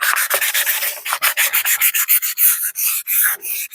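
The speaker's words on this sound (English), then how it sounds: "The sandpaper didn't do too bad." Sandpaper rubs back and forth over a metal part from a 1976 Yamaha XS650 motorcycle, removing tarnish in quick, rhythmic strokes, loud and close, with short pauses between scrapes.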